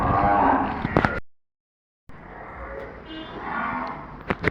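Cattle lowing at a cowshed during night feeding, two long moos separated by a short silence, close and fairly loud with no talk.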